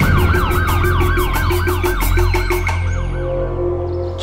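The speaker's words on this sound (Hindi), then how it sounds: "एक सायरन की आवाज आ रही होगी तुम्हें" A loud siren wails steadily nearby, rising and falling in a fast repeating cycle for several seconds before it starts to fade.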